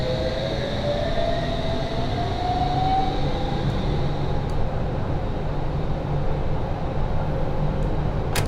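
An S7 Stock District Line train pulls away from a station in Train Simulator 2019, a steady rolling rumble with a rising motor whine building over several seconds.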